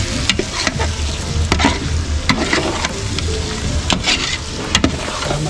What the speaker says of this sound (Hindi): मसाला अच्छे से फ्राई करते हैं